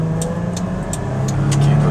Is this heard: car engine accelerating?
yes